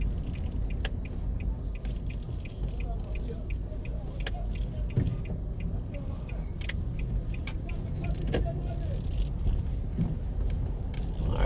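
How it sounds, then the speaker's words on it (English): A car drives slowly around York Plaza in Half Way Tree, Kingston, Jamaica, with a steady close engine and road rumble throughout and scattered faint clicks and rattles on top. "So this is York Plaza coming up. So we'll just take a quick drive around the plaza."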